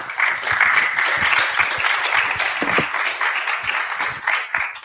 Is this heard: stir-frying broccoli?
no